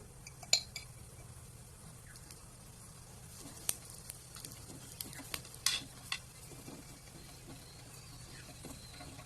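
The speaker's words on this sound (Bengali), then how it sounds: "এখন ভালোভাবে সেঁকে নেব" Rumali roti roasts with ghee on a hot pan, a low steady sizzle broken by occasional sharp clinks and scrapes of a spatula against the metal.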